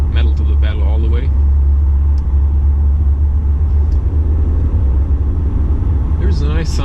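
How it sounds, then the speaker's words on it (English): A loud diesel engine in a 2018 Mercedes E220d coupe drones and rumbles steadily as it pulls under load at full throttle, while a person speaks briefly at the start and end. "There's a nice sound for the diesel."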